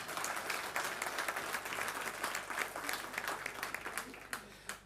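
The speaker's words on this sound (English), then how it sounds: "Let's give him a big round of applause," Audience applause for an author at a book launch evening, a dense, steady patter of many hands clapping throughout, with a few sharper claps standing out near the end.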